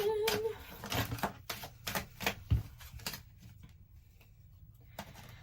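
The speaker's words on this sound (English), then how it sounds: "Let's get shuffling." Quick crisp riffles of tarot cards being shuffled, a run of sharp bursts with brief pauses, then softer handling tapering off into quiet.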